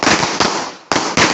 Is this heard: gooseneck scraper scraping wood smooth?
no